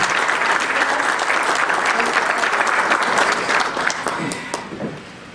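Sustained applause from an audience at a book launch, loud and dense for most of the stretch before thinning out and fading toward the end.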